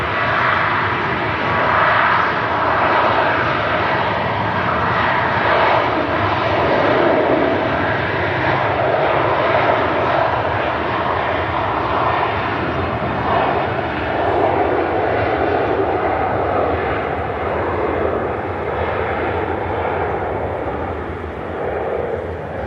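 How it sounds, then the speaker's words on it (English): A TUI airliner roars down the runway on its takeoff roll at Manchester Airport, a loud, sustained broadband jet-engine rumble and whine holding steady throughout with no voices. "Got the TUIs already on the takeoff roll here."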